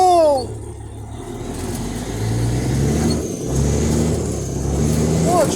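A semi truck revs hard while four-wheeling off-road, its engine rising and falling through repeated surges and a brief dip midway. It sounds loud and close, with faint voices shouting in the background.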